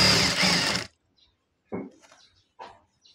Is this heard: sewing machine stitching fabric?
yes